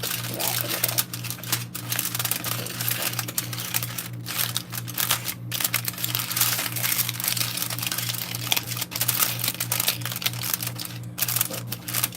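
Food is wrapped tightly in aluminium foil late at night, a dense, rapid crinkling and crackling of foil held close to the mic that carries on nonstop for twelve seconds over a low steady hum, with no talking.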